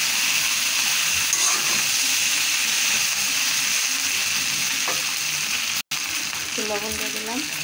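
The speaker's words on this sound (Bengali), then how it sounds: "মশলাটা দিয়ে দিচ্ছি, এখন নেড়ে দেবো ভালো।" Noodles with spices are stirred in a frying pan, a continuous loud sizzle and hiss with occasional scraping, plus a brief cut and a short patch of voice near the end.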